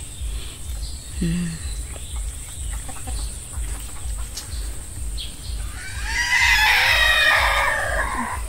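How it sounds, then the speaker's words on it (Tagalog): Chickens cluck softly over a low steady hum, then a rooster crows loudly near the end, with more clucking around it. "Ang daming manok nila, oh."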